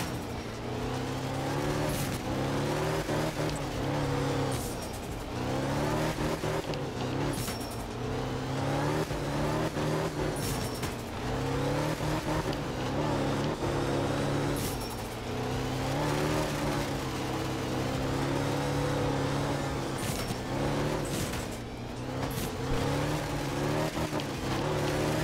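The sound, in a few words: Fujin rally car engine driving, from video game art of rally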